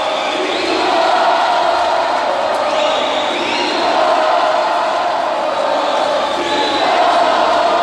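Indoor futsal crowd noise from Supermercado Tinoco supporters, a sustained roar of cheering and shouting with swelling surges, while a ball bounces on the court and faint voices mix in.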